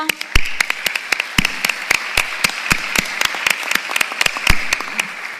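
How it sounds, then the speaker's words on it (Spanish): Applause for the speakers at a Franco-Uruguayan science and society forum: a small audience clapping at close range, individual claps sharp and distinct in an uneven, continuous patter. "los despedimos con un gran aplauso"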